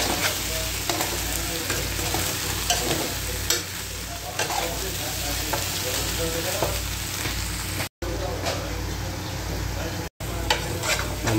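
Adobo sizzles steadily as it fries in a pan, with a utensil scraping and stirring through it, close and loud, and no voices.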